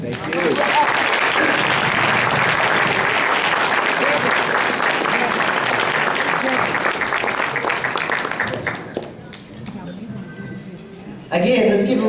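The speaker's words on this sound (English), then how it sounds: "let's give a round of applause for your president, everyone." Luncheon audience at the PVAMU Houston Alumni Chapter 2025 scholarship event breaks into sustained, dense applause that fills the room for about nine seconds, then drops to a thinner patter before a brief swell returns at the end.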